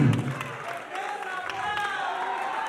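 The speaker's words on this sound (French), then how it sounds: "On applaudit très fort pour lui." A TV studio audience applauds steadily, a dense wash of clapping with scattered cheers, while a voice speaks briefly at the start.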